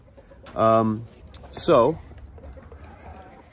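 Backyard chickens near a house porch: two distinct clucking calls, one steady and harmonic, the next rising and falling, heard fairly close with a brief word spoken between quiet stretches.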